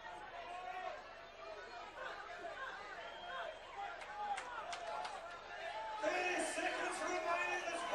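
Boxing fight-night crowd in a packed hall, a steady hubbub of chatter and shouting that swells louder in the last couple of seconds as the audience cheers on both fighters.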